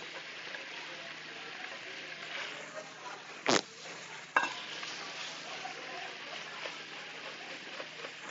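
Onions cook in a pan for mushroom rice, giving a soft, steady sizzle with a couple of sharp utensil knocks midway, fairly faint overall.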